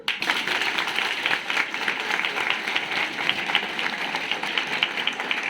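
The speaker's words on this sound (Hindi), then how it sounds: "ताली बजाओ फिर" Children in a classroom audience clapping together, a sustained burst of many small hands applauding at fairly close range, dense and even throughout with no talk over it.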